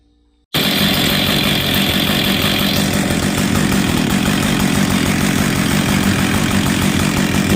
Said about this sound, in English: That's a perfectly tuned saw. As you can see at idle, that chain just barely creeps along.